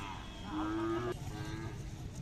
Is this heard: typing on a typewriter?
no